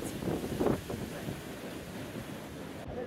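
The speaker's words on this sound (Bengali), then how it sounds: "এখানে হাওয়া দিচ্ছে খুব" Strong sea wind blows at Mandarmani beach, a continuous rushing roar buffeting the microphone, with low surf rumble underneath and no talk.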